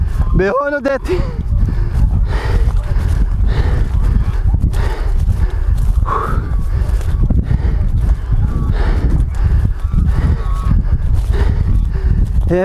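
Cows low on a farm during a wild boar hunt, mixed with rustling movement and constant nearby voices talking throughout.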